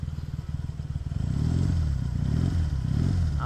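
A 1976 Honda CB200 twin motorcycle engine idling close by with a steady low pulsing throb that rises slightly in the second half, no voices over it.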